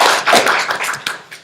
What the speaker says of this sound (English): everybody give them a great round of applause.